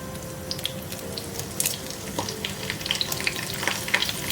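Garlic and curry leaves fry in oil for a banana-flower thoran, crackling and sizzling nearby with sharp pops scattered over a soft, moderate hiss.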